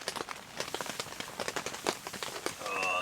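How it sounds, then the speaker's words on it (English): Steady patter of rain on a large hot tent, close and continuous, with scattered droplet taps and a faint hiss rising toward the end. "just listen to the rain"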